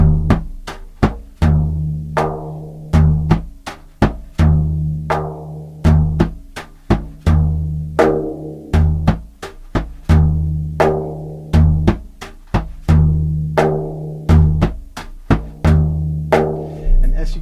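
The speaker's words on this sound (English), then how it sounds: "Now if we add our brush, it sounds like this." Frame drum played with a brush alongside hand strokes: a steady, looping groove of sharp hits and brushed swishes over a booming low resonance, close and loud, with no talk.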